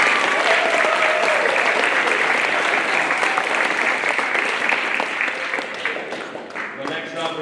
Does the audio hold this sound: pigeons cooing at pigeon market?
no